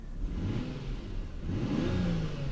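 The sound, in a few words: car engine revving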